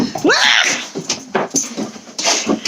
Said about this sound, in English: I'm about to be attacked by a dog.